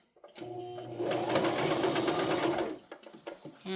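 Sewing machine stitching a heart-shaped purse up close, a loud steady burst of rapid needle chatter lasting a few seconds, then slowing and stopping amid fabric handling.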